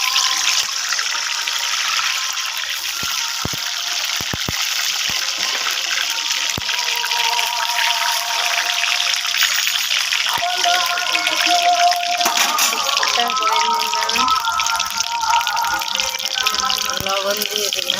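Potatoes hit hot oil in a pan and fry with a loud, continuous sizzling hiss, crackling and spattering steadily for the whole stretch.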